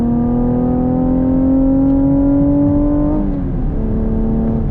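A 2021 Chevy Camaro RS Redline Edition engine revs up under throttle, rising steadily in pitch before a brief dip at a gear change, then pulling again, loud and close.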